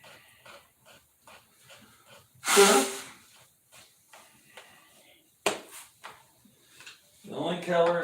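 A person blows their nose hard after spray painting, one loud forceful honk followed by a shorter second puff, with soft sniffs and small rustling sounds nearby in an otherwise quiet room.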